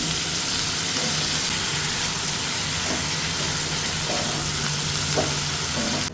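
Vegetables and ground spices sizzle in a hot frying pan, a loud continuous crackle with soft scraping from stirring throughout.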